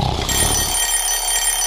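An alarm clock rings in a brief, steady burst, its bright electronic tone running loud and continuous for under two seconds.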